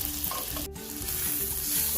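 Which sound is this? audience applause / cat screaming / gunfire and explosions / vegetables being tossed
vegetables being tossed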